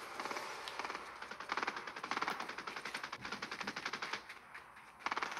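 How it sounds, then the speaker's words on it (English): Gunfire in the Fortnite video game crackles in rapid, fairly faint automatic bursts that run almost continuously, with a few short pauses and sharper shots near the end. "I hear the shooting now."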